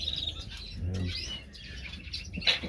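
Pet birds in a backyard birdshed full of cages chirp and tweet in scattered short calls, along with a soft flutter of wings, at moderate distance and with no talking over them.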